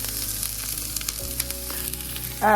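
Onions sizzle steadily in a hot pan, a continuous crackling fry close up, briefly stirred near the end.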